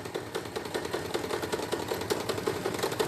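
Domestic sewing machine stitching a seam on a child's shorts and backstitching at its end, a steady rapid mechanical clatter with regular needle ticks, close and moderately loud, with no talking.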